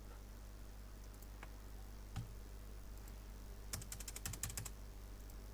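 Code being typed on a computer keyboard, faint scattered key clicks with a quick burst of taps near the end over steady low background hum.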